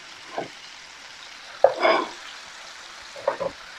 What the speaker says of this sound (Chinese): 我们把刚刚炸好的这个豆腐放下去